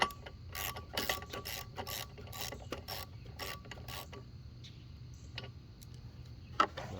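Spark plug being tightened into a Honda HRN 216 lawn mower's GCV 170 engine, heard as a close series of quick ratcheting clicks, dense at first and then thinning out to a few sparse ticks.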